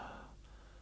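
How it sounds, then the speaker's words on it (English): A single soft, breathy sigh made as a breathy-phonation singing exercise, airy and fading out over under a second, heard alone and close. "make a really breathy sound, like you're sighing after a really long day"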